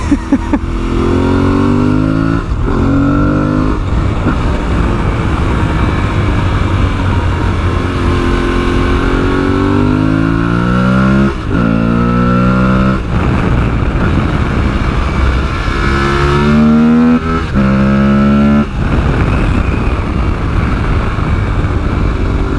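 A Tuareg adventure motorcycle engine drones loudly at speed, its pitch climbing and dropping through repeated gear changes under constant wind rush.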